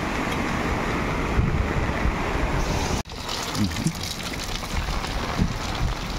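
Steady roar of wind and rain from Typhoon Carina, a sudden break partway, then the gusty storm noise continues, dense and constant.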